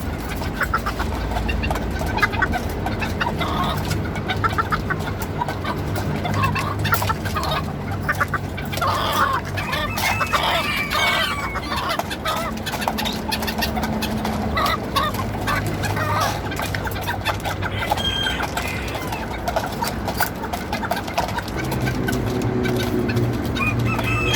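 Hungry bantam chickens cluck and squawk continuously in a close, busy chorus, with overlapping calls from many birds filling the whole stretch without any talking.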